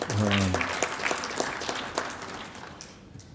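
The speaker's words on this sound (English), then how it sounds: "Yes, round of applause, please, round of applause." Applause breaks out at a Las Cruces city council meeting, a brief burst of clapping that starts over a voice and tapers off over a few seconds.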